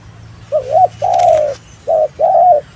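A dove coos four times in a slow, rhythmic phrase, clear and close against a quiet background hum.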